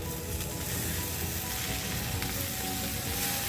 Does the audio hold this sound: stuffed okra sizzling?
yes